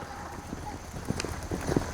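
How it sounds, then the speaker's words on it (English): A horse trotting at a clinic, hooves clip-clopping in a steady rhythm on the ground, fairly faint against outdoor wind and ambient noise. "one thing we know, Kristen, your horse can dang sure trot."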